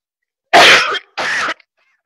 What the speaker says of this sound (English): Everybody's terrified of coughs.